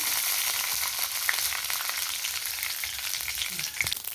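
Mustard seeds spluttering in hot oil for tempering a ridge gourd sambar: a dense, steady crackle of tiny pops over a bright hiss, close and unbroken, with no talking.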